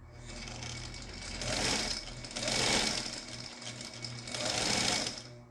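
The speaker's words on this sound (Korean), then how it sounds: "재봉틀이 회전하면서 이 북실감기 장치가 작동하는 이런 원리입니다" An old Brother B260 sewing machine, fitted with a motor, whirs steadily as its bobbin winder spins, the motor surging in three rising and falling bursts over a low mechanical hum.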